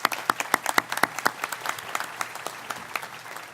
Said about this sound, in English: I know you all deserve a round of applause